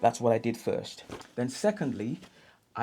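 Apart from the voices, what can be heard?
No distinct noise like a dog, phone or traffic.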